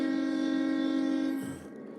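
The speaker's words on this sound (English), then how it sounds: "you hear that whistle blowing, blowing around the bend" A steady, sustained train whistle or horn blows loud and near for over a second, then cuts off and fades into quieter low rumble.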